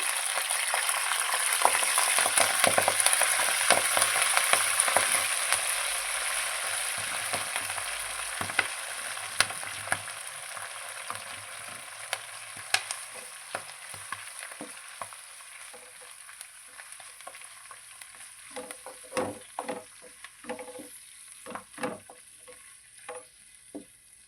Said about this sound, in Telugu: ఇప్పుడు ఈ పచ్చిమిర్చిలోనే మనం కడిగి పెట్టుకున్న మెంతాకు వేసేస్తున్నామండి